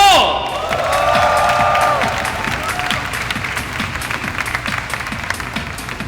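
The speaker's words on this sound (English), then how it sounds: "So again, another round of applause" An audience applauds and cheers to welcome a speaker onto the stage at a comic book event in a National Book Store, with loud clapping and whoops that ease slightly as the crowd settles; a voice comes in over the applause.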